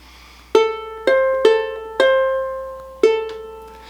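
Solo ukulele plays the opening measure of a tune: five plucked notes and chords in a loose rhythm, each left to ring and fade before the next. Close, clean and unaccompanied.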